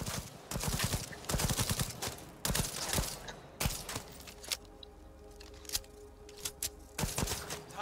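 A pistol fires in Cyberpunk 2077, sharp, close, single cracks spaced unevenly in small clusters over a quiet background hum.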